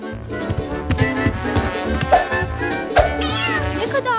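A kitten meows repeatedly in short, bright, high cries, close and fairly loud, with people talking and other sounds of a lively indoor scene around it.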